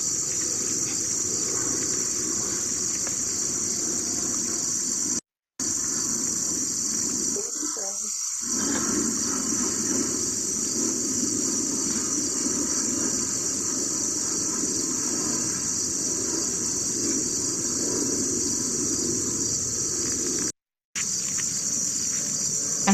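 Dense, continuous high chirping of insects in a drying field with milkweed, a steady shrill drone filling the scene, briefly cut out twice, with a low rustle partway through.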